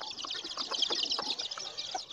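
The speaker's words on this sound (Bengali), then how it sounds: "বাচ্চা সহ একটু মুরগি এগুলো খেতে দিচ্ছি।" A hen with her chicks clucks softly in short, busy bursts while being fed insects, close by and continuous.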